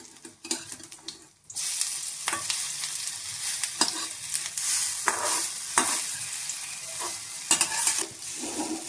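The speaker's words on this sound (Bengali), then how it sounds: "ওই তেলেই বড়াটা ভাজা হয়ে গেছে।" Lentil fritters (bora) frying in oil and being flipped: a steady bright sizzle with sharp scraping clicks and stirring knocks, close and loud, after a brief quieter moment at the start.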